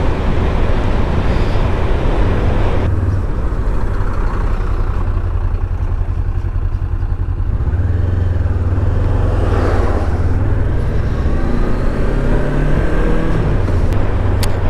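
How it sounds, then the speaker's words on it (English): Road traffic heard from a Honda CB500X motorcycle on Scotland's North Coast 500 near Loch Ness: a loud, steady engine and wind roar, with other vehicles swelling and fading as they pass close by. "Oh, more traffic."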